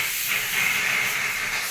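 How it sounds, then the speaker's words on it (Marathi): A pressure cooker lets out a loud, continuous steam hiss for a couple of seconds, close by and without voices. "आतमध्ये कुकरची शिट्टी होत आहे कारण गरम होत आहे"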